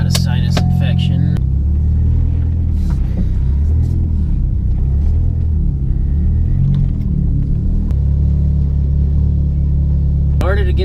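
A Liberty Walk Lamborghini engine idles loudly and rumbles in a garage while it is eased into a tight spot, with deep, steady low drone and occasional revs and shifts in pitch.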